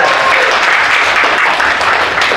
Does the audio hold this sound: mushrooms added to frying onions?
no